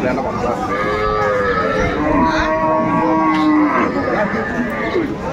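Improved-breed dairy cows and calves at the Aftabganj cattle market in Dinajpur moo repeatedly, with several long, overlapping calls close by over a steady background of market noise.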